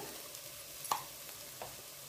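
Tomatoes fry with salt and turmeric in a pan for chicken biryani, giving a faint, steady sizzle broken by a single soft utensil clink.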